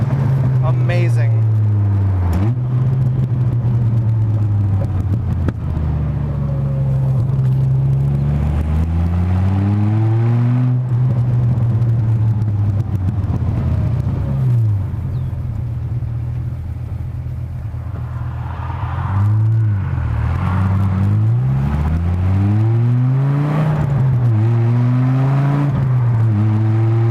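2006 Dodge Viper coupe accelerating hard under load, engine pitch climbing and dropping through repeated gear shifts, loud and close from inside the car, with a voice talking over it at times.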